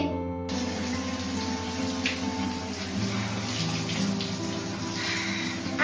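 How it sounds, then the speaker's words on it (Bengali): Water pours over a child's head during a bath after hair oiling, a steady close splashing gush running continuously with a faint hum underneath. "তেল লাগানোর পর একটু মাথায় জল ঢেলে নেবে"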